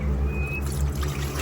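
A short burst of water pouring and splashing, close and steady, over a low background hum.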